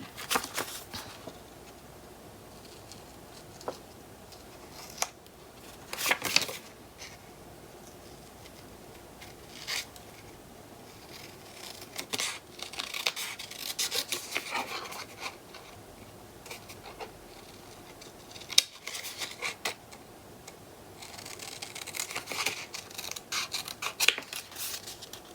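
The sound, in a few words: scissors free-cutting paper for papercraft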